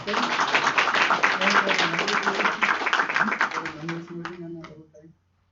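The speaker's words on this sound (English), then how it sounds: "let's get a round of applause for Zooey Sophia." Applause from an audience greeting a speaker at a talk, with dense clapping that holds strong and then thins out and stops near the end, a few voices mixed in.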